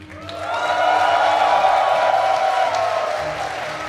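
A crowd at an Age of Empires 2 esports offline event roars and cheers loudly, a sustained swell that holds steady before easing off toward the end.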